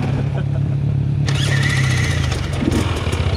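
A dirt bike engine on a trail runs loud and close, idling with a low rumble before revving up, while voices talk over it.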